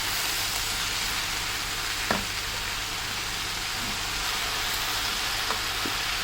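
Cut manathakkali greens sautéing in a pan give a steady, even sizzle throughout, with a couple of faint clicks near the start and the end and no talking.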